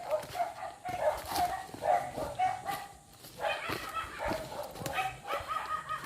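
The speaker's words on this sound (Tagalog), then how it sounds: "Uy, aso." A dog barks repeatedly in a mountain village, a run of sharp, fairly close barks in an uneven rhythm, with faint voices in the background.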